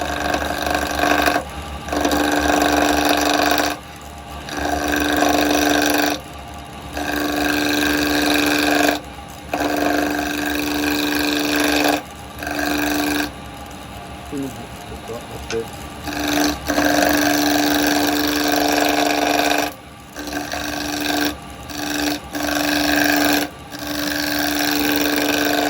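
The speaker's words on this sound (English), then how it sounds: "I'm going to use the round chisel just to come in and take a few light cuts" A round carbide chisel takes light cuts on a wood lathe while turning a three-cornered lidded box. Steady scraping and humming passes are broken by short pauses between cuts, at a moderate level.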